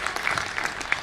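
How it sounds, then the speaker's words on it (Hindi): Brief burst of audience clapping at a Hindi comedy poetry stage show, a short patter of hands heard at a moderate level without voices. "ताली बजाइए।"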